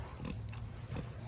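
A farm pig named Peggy grunts at feeding time, giving two short, close oinks over a low barnyard background, with no talking.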